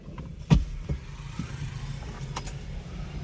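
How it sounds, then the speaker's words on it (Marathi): A Tata Nano running on E20 fuel sits with its engine at a low, steady idle inside the car, and a jangle of keys and a couple of soft knocks sound over it near the start. "आता आपण गाडीत बसू आणि गाडीची फायरिंग पण तुम्हाला ऐकवतोय"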